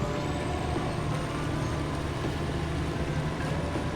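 A modded truck in Snowrunner drives with a steady, droning engine rumble and a constant broadband hiss, holding an even level the whole time without a break.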